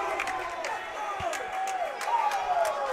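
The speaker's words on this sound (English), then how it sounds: "There's the roar from the crowd" Crowd roaring at a water polo semi-final, a steady sustained wall of noise from the stands that swells toward the end, with a commentator's voice running over it.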